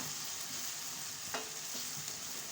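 Cubed potatoes frying in hot oil in a pan for an aloo baingan curry, a steady dense sizzle throughout with a few soft scrapes and clinks of stirring, no voices.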